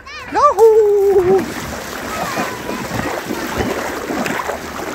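Children and women bathing in a small, shallow river among stones, with continuous close splashing of water; a voice calls out at the start and voices mix in with the splashing.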